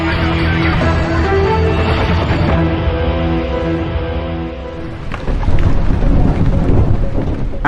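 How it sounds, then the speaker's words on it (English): Thunderstorm over Yorkshire with steady loud rain and deep rolling thunder that swells into a heavier crash near the end, continuous and close. "Yorkshire is being drenched in thunderstorms and downpours."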